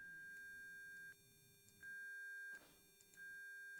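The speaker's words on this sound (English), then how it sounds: "So if I play this sample sine wave" An aliased sine wave test tone at about 1600 hertz plays back as a steady, thin electronic pitch, briefly cutting out twice, faint and alone without speech.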